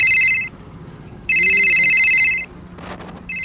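A landline telephone rings in steady electronic bursts, three clear ring phrases separated by short gaps, loud and close, with a faint voice and some background noise between the rings.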